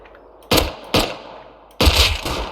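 Gunshots in the video game Rust, three sharp loud cracks with short decays, two close together and a third after a pause, with no talk over them.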